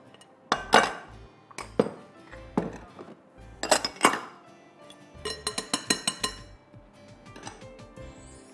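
Chocolate chip cookie dough with butter, white and brown sugar and vanilla is stirred by hand in a bowl, giving repeated close clinks and scrapes of a utensil against the bowl. The strokes come in uneven bursts, ending in a quick run of taps.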